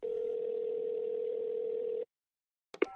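A telephone ringback tone on a call waiting to be answered: one steady, fairly loud tone lasting about two seconds, then silence, with a brief sharp sound near the end.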